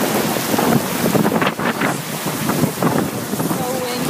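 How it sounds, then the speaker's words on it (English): Ocean waves wash by the shore under strong wind buffeting the microphone, a loud, rough roar with surging swells rising and falling. "Look at the waves over there."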